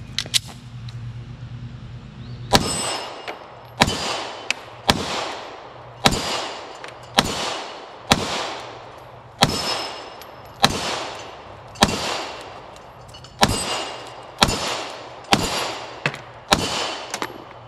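A Springfield Hellcat pocket pistol fires about a dozen sharp, loud shots at fairly even intervals after a brief quieter lead-in. Each shot rings out alone, with no talking.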